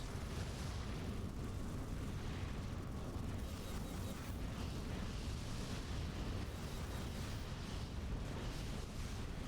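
Planetary missiles and torpedoes strike ships in a space 4X strategy game, producing a continuous dense rumble of explosions and crackling impacts, fairly faint and without speech.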